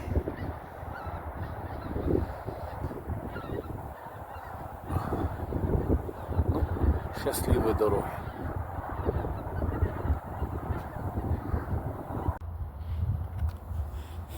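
Geese honk repeatedly in flight over a field, distant and overlapping, over steady outdoor background noise, with a brief spoken remark.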